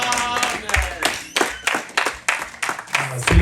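A church congregation claps in bursts of roughly rhythmic applause acclaiming the Lord, the sharp claps close and loud with voices mixed in.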